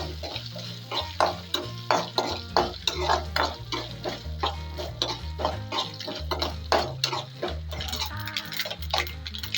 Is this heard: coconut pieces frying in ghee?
yes